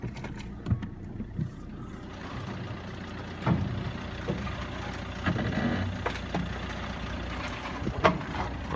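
A damaged salvage Fiat 500 rolling backwards under its own engine, a quiet low running hum with a few small knocks and bumps, heard alone without talk.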